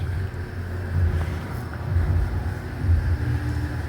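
Semi trucks rumble at a truck wash in Oklahoma, a continuous deep idling drone with slow swells, heard fairly close with no talking.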